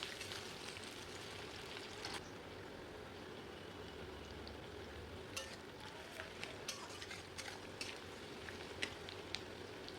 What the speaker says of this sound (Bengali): পেঁয়াজ কুচিটা একটুখানি নাড়াচাড়া করে এর মধ্যে দিয়ে দেব স্বাদমতো চিনি